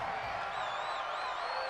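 A stadium crowd roars steadily at an NFL football game between the San Francisco 49ers and the Houston Texans. The dense wash of noise has faint whistles or whoops rising over it.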